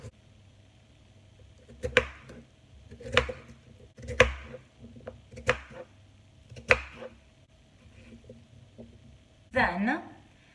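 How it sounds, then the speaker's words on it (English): A kitchen knife chops potatoes into small cubes on a board, about six distinct sharp thuds at roughly one-second intervals, with a scraping sweep at the end, close and clear over soft background noise. "You cut your potato in half and then in little cubes."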